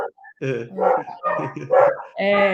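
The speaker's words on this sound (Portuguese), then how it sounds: "Dá para ouvir muito, né? Os cachorros, vou ter que esperar." Dogs bark in quick, overlapping bursts, close and loud, with some higher yips mixed in.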